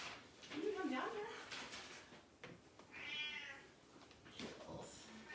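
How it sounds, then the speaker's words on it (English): A cat meows a few times, soft and somewhat distant, amid faint background noise. "Come here, kitty."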